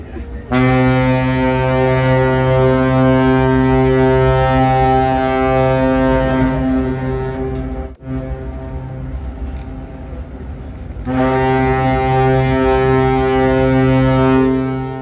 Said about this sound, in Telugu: ఆ షిప్ కూడా వచ్చేటప్పుడు మామూలుగా రాదు, 3 సైరన్లు కొట్టుకుంటూ వస్తుంది, అంటే 3 హార్న్లు కొడుతుంది